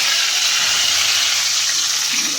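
Fish sizzles as it fries in hot oil in a home kitchen, a loud, close, steady hiss of crackling spatter that runs unbroken and fills the whole stretch with no talking.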